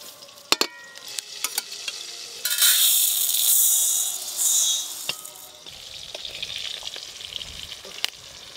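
Lightly fried moong dal tipped into a pot for a festival bhog khichuri, heard as a bright hiss that swells for a few seconds in the middle, with scattered clinks and taps of utensils before and after.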